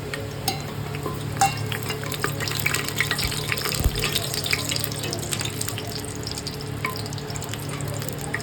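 A bay leaf crackles and sizzles in hot oil while pulao is being cooked, a steady close-up frying hiss with small pops that runs throughout, with no one speaking.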